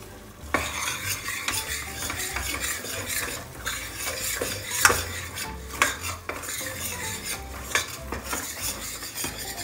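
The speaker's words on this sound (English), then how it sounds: "So you keep roasting till it turns brown. And again, it has to be on medium flame." Sindhi kadhi base roasts in oil over a medium flame, a soft sizzle under frequent scraping and clinking of a metal spoon against the pot, close and busy, with no speech.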